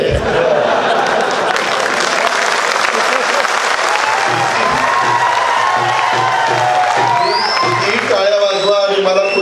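A large crowd at a political rally bursts into loud, sustained applause mixed with cheering and whoops, dense and close throughout, with a voice rising over it near the end.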